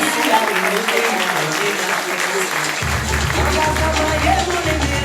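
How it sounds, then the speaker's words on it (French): An audience at a wax-print fashion show applauds steadily, with clapping filling the room at moderate loudness while an announcer keeps speaking over it. "Applaudissements donc pour Monsieur Hubert."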